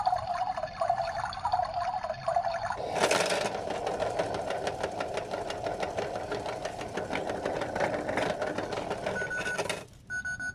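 A small toy washing machine runs with a steady, close mechanical whir and rattle that holds for about seven seconds after a short start and then stops near the end.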